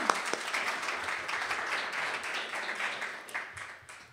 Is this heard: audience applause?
yes